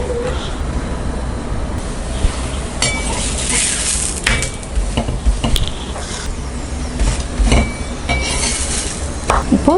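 Gobi pieces frying on a hot tawa give a steady sizzle with clinks of utensils and pan scraping, continuous and close throughout, with no one speaking.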